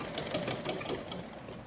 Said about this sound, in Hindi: तो ये अब हमने पीछे वाली साइड में लेपे की सिलाई कर दी है